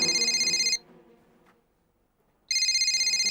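A telephone rings with a bright electronic trill, two loud bursts separated by a short pause, close and clear with little else around it.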